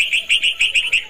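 Young bird chicks about four to five days old chirp in a curry leaf tree beside a house, a rapid run of high, thin peeps repeating quickly and close by.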